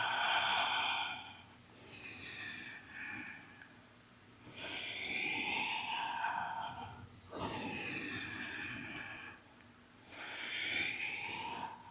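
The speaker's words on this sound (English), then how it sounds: "Let your ujjayi breathing guide you." Slow, audible ujjayi breaths during a heat-building yoga flow, each long airy inhale or exhale rising and fading over a few seconds in a steady repeating rhythm, close and fairly soft, with no talking.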